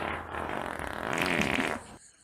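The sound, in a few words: fart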